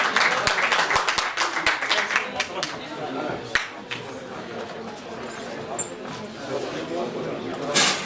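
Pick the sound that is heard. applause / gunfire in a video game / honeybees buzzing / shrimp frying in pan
applause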